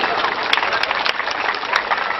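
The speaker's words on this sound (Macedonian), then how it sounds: "Аплауз се за нив." A crowd of spectators at a Macedonian diaspora games gathering applauds steadily, a thick wash of clapping with a few louder claps popping out near the listener, filling the whole moment without pause.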